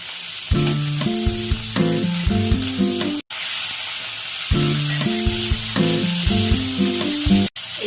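Paneer cubes and capsicum fry on a high flame, a steady bright sizzle running under a loud instrumental melody that stops briefly twice.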